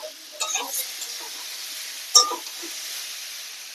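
Potatoes stir-fried in a pan for a Bengali meal alongside bata fish curry, with a soft steady sizzle and a couple of brief scraping stirs.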